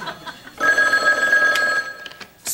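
A telephone bell rings on a late-night talk show set, one sustained bright electronic trill lasting over a second, loud and close, with brief chatter before it.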